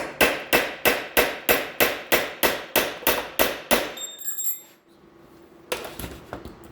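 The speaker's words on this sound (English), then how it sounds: "And then a punch, a hammer." Twelve sharp metallic hammer blows on a punch land in a fast, even rhythm while removing a Cadillac Eldorado Northstar engine's rear main seal, then stop; a brief clink follows, and a couple more strikes come near the end.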